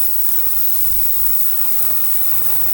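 An ultrasonic cleaner holding lawn mower carburetor parts from a Lawn Boy mower runs with a steady, loud broadband hiss and a faint low hum throughout, without pause.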